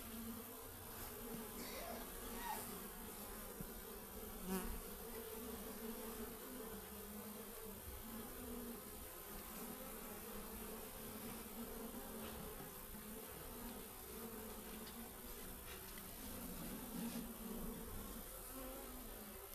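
Honey bees buzz steadily inside a beehive, a dense, continuous drone of many wings close by that stays even throughout, with no talk over it.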